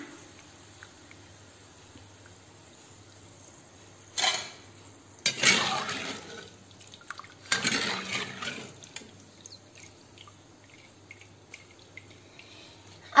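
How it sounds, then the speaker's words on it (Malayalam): Fried banana chips are scooped out of hot oil with a slotted spoon, a few scraping clinks and rattles of the chips against metal in three short bursts over a faint background hum, with no voices. "ഇനി ഇതിനെ നമുക്ക് എണ്ണയിൽ നിന്ന് കോരി മാറ്റാം"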